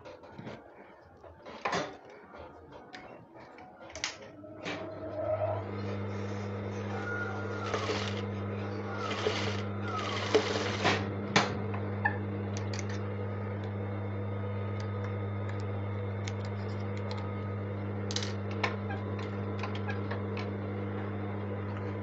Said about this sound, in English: So I'll be sewing the pleats down.